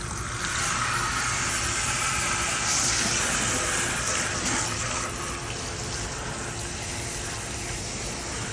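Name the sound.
rinsing hair tint out with cool tap water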